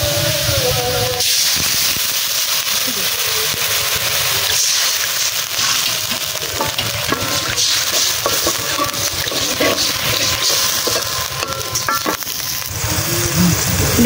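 Frying onion and garlic on a clay stove hiss and sizzle steadily after a little water goes in, a close, continuous sputter with occasional stirring clatter.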